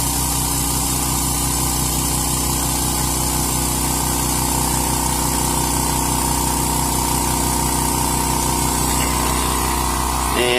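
California Air Tools 2010A 1.0 HP ultra quiet oil-free air compressor running steadily, a constant motor hum with pump whine, heard close to the intake and continuous throughout.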